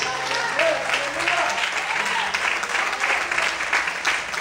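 A church congregation bursts into steady, full applause, many hands clapping together in a continuous wash that holds at an even level from start to finish.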